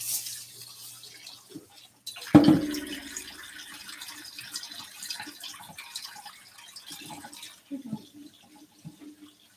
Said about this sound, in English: Alright, and then I rinse my rice out.